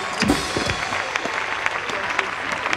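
A church congregation at an evangelical worship gathering applauds and acclaims Jesus. Continuous clapping from a crowd fills the room, with a voice calling out over it.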